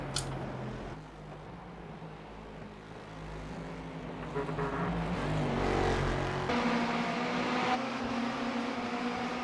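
Race cars in a sportscar racing sim run down the long back straight at Mosport, engines droning and rising in pitch as they accelerate, moderately loud and continuous, with a faint background tone.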